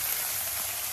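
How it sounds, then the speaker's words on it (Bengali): Chicken frying in a pan gives a steady, dense sizzle with no breaks for about a second, close and even. "ওদিকে চিকেনটা ফ্রাই হচ্ছে।"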